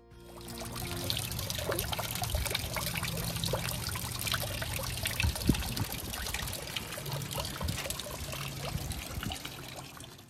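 A garden water fountain trickles steadily outdoors, a continuous close-up splashing and dribbling of circulating water with small drips and gurgles throughout, no voices present.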